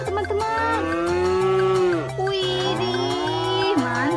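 Cartoon cow moos over a bouncy music track on a spinning fairground ride, the long lowing calls loud and repeated across the whole stretch.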